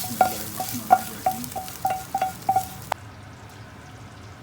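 A tadka of tomato, ginger and green chilli sizzles loudly in hot oil while being stirred, with a string of quick clinking taps from the spoon, then a sharp hit and the frying fading away.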